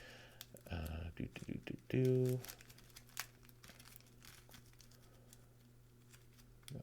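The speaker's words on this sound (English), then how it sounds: "So now we have to shuffle this up to get that ready." A Marvel Champions card game player deck is shuffled in a couple of quick, rattling bursts, followed by softer handling noises and occasional taps over a low hum.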